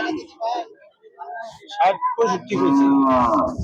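Cattle lowing at a Kurbani livestock market in Mymensingh, a drawn-out moo rising near the end beneath steady nearby conversation among traders.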